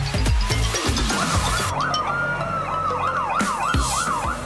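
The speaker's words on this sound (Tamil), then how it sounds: "வாவ் டாஷா, பாரு, அது ஒரு தீயணைப்பு வாகனம்." A fire engine's wailing siren sweeps up and down repeatedly, loud and fairly close, over rumbling traffic noise.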